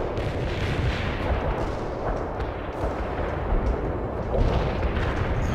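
Battle noise from the World in Conflict: Soviet Assault video game: dense, continuous rumbling gunfire and artillery explosions blending into a loud, unbroken roar without clear gaps.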